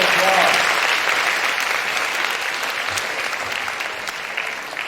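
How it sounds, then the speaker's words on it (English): A school audience at BGS National Public School in Bangalore applauds an astronaut, a dense, sustained wash of many hands clapping that stays loud and steady, easing slightly toward the end. "So, a round of applause"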